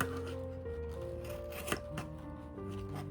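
Scissors snip and rustle through car window cover material, producing soft close cutting and crinkling sounds over a steady low hum, with no talking.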